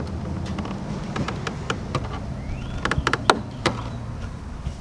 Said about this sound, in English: now get your flathead and just start trying to pry the best you can